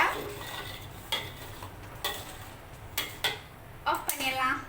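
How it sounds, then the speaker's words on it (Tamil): Mantis shrimp tossed with lemon juice in a pan, with a utensil scraping and clinking against the metal in scattered taps over a soft sizzle; a voice talks quietly underneath. "லெமன் ஊற்றி ஒரு மிக்ஸ் பண்ணி ரொம்ப நேரம் நம்ம விட வேண்டாம்"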